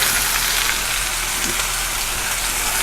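A leg of lamb searing in a hot pan, giving a loud, steady, close hiss of sizzling fat with no pauses.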